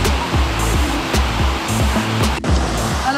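A mountain stream in the high Alps rushes steadily at close range, a loud continuous hiss of water with faint rhythmic thuds beneath it.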